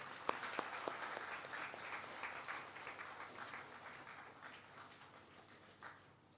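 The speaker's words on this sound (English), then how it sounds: "Let's give sir a big round of applause." An audience at a school's 25th anniversary felicitation ceremony applauds an honored guest, a soft, distant patter of many hands with a few sharp claps early on, gradually tapering off.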